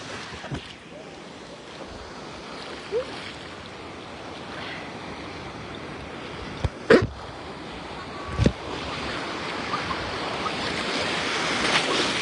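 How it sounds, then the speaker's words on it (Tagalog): High ocean waves crash steadily onto a beach under wind noise, with a couple of louder surges standing out from the continuous surf roar. "Pero yung wave niya, ang taas na."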